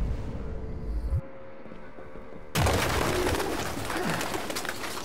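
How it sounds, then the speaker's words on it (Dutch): Pigeons coo in a grimy, smelly building in the video game Detroit: Become Human, soft repeated throaty coos over a steady ambient drone, with a sudden flurry of wingbeats and rustling as the birds scatter. "A pigeon! Allemaal duiven!"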